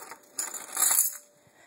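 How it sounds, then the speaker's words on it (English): A bunch of keys jingles briefly and close by in a quiet indoor room, a bright metallic rattle that swells and then fades within about a second. "Okay, I need my keys."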